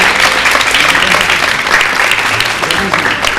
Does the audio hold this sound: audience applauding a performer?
yes